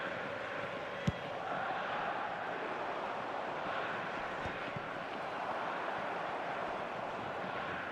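Stadium crowd noise from the eFootball 2025 video game, a steady broad roar of spectators that holds at an even level throughout, with one brief sharp knock near the start.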